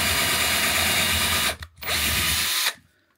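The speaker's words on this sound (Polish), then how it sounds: "Wywierciłem otwór wiertłem 6" A power drill with a 6 mm bit bores a hole for a rivet nut in a camper, running loud and steady for about 1.5 seconds, briefly stopping, then drilling again for another second before cutting off.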